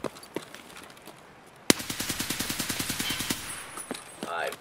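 Automatic gunfire in the video game Escape From Tarkov: one sharp shot, then a rapid burst of about fifteen evenly spaced rounds, loud and close, followed by a few scattered shots and a brief rising tone.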